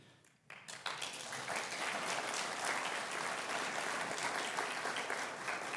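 An audience breaks into sustained, even applause for Kettering senior fellows at a democracy conversation event, starting after a brief quiet moment and continuing steadily without talk.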